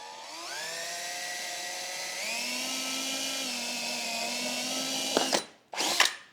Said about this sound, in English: So I'm going to use the smaller drill bit here,